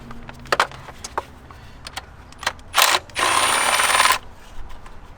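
A ratchet fitted with an E8 star socket loosens an oil-covered Valvetronic motor bolt on a 2007-2013 BMW 328i E90, giving scattered close clicks followed by two fast bursts of ratcheting.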